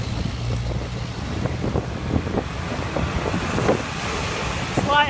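Steady wind rushes and buffets the microphone while cycling into a slight headwind on a busy road in Java, Indonesia, with low road rumble running underneath throughout.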